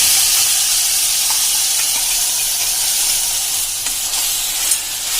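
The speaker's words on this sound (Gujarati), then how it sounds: "હવે આ સ્ટેજે આપણે આજે ટમેટાની પ્યુરી કરી છે એ નાખી દઈશું" Tomato puree hits a hot pan of crackled cumin and mustard seeds while cooking baby food, giving a loud, steady, dense sizzle and hiss that continues throughout with no talking.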